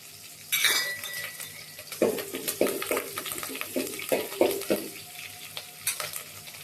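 Green chillies and curry leaves sizzle in hot oil for a poha breakfast, with a steady frying hiss broken by several sharp clinks and scrapes of a spoon stirring against the pan.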